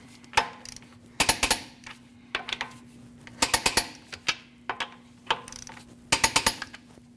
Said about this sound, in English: we're going to torque these at 100 foot-pounds in a crisscross manner.